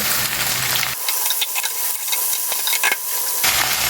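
Tomato pieces go into a pan where ingredients for wheat rava masala upma are frying: a loud, dense sizzle gives way to a busier stretch of spattering crackles and spoon scrapes, then swells back to a full hiss.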